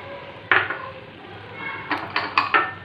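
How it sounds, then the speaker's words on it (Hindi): A utensil scrapes and clacks against a pan while Chinese rice with corn and chilli sauce is stirred, a few distinct metallic knocks in quick succession over a quiet background. "अब इसे अच्छी तरह से चलाऊँगी"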